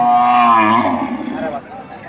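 A cow with her calf moos at a Rajshahi cattle market, a single drawn-out low call right at the start that fades over about a second and a half into quieter background noise.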